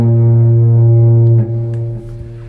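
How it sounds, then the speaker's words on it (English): Heavy, distorted guitar holds a dissonant tritone, loud and sustained, then shifts and decays into a quieter buzzing tail. "The flat fifth is more commonly known as a tritone"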